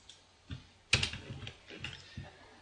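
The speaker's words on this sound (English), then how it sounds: "So I'll just type in here, enter, and I'll copy this across." Scattered computer keyboard keystrokes in a quiet room, a handful of separate clicks spread out with one sharper, louder tap near the start, no voices.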